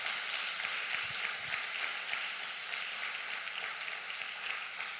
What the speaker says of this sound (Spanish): Ese aplauso es para nuestro Señor Jesucristo.